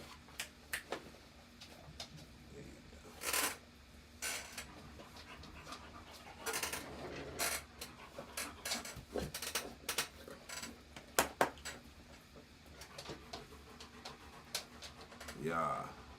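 A dog pants steadily nearby, quick breathy huffs running through the recording, with a person talking now and then and scattered rustling.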